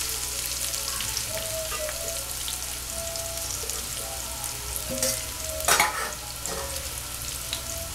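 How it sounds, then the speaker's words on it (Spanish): Chicken thighs with the skin on fry in a pan with bay leaf, giving a quiet, steady sizzle broken by a few soft clinks and stirring scrapes near the end. "Y vamos a incorporar el pollo"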